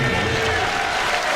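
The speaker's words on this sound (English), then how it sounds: "Just listen to the Heroes crowd. ovation for Fulkerson." A basketball arena crowd gives Fulkerson an ovation during a Tennessee Tech vs Tennessee college game, a loud, sustained roar of cheering and clapping with a commentator's voice audible over it.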